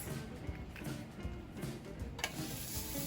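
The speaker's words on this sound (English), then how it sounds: "Just put a little bit of oil into the pan and cook them on both sides." Steady crackling sizzle of tortillas frying in oil in a pan, with occasional soft scraping, no voices.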